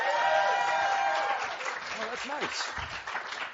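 Studio audience applause, a dense burst of clapping that fades over a couple of seconds as someone speaks over it.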